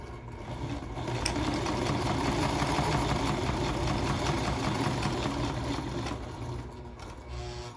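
A sewing machine runs steadily for several seconds, stitching a strip of fabric for a backpack-style bag, a continuous close mechanical whir and rattle with no talking.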